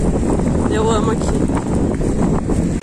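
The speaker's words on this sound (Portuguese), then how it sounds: "Tá dando um pouquinho de vento gelado, uma chuvinha um pouquinho forte." Cold wind gusts across the microphone at night on Ilhabela island, a steady blustery roar with someone talking over it.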